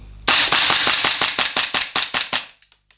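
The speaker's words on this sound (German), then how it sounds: "machen wir mal ein paar Schüsse weiter" A rapid string of about a dozen sharp pops from an Acetech Quark R airsoft shotgun with tracer fires in steady rhythm, loud and close, then trails off into a few faint clicks.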